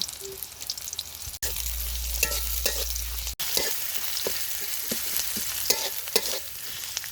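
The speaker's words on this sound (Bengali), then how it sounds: "লোটটা শুটকিটা ভুনা করে নিব। তেল, পেঁয়াজ কুচি, কাঁচামরিচ, রসুন, জিরা বাটা" Loitta dried fish frying in oil with chopped onion, green chili, garlic and cumin paste, sizzling loudly and continuously while the pan is stirred, with scraping strokes at intervals.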